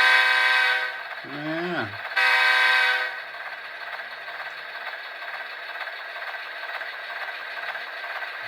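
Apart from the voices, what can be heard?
model locomotive sound decoder horn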